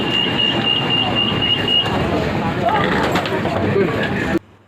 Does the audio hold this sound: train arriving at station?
yes